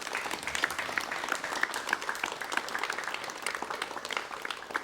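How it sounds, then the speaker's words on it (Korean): A studio audience applauds on a 1988 Korean KBS television talk show, a sustained patter of many hands clapping at an even, moderate level with no break. "여러분 많은 박수를 보내주시면 고맙겠습니다."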